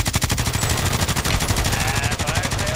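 Rapid automatic gunfire in Call of Duty, a loud, sustained burst of fast, evenly spaced shots that fills the whole stretch with no break.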